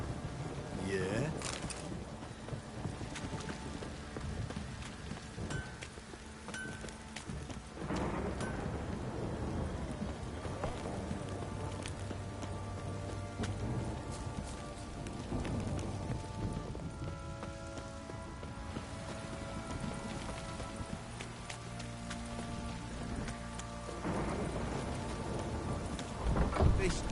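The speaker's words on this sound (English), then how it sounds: "This downpour's a bastard, it is." Heavy rain pours steadily in The Witcher 3: Wild Hunt, with thunder rumbling through the storm; the downpour is continuous and enveloping, with occasional voices underneath.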